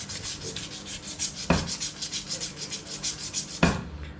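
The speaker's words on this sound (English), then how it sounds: "This is dry scuffing with a 320 grit." Dry scuffing of a Royal Enfield Himalayan headlamp bracket with 320 grit sandpaper before a matte black repaint, heard as a close, rhythmic back-and-forth rubbing rasp with two sharper knocks and no talking.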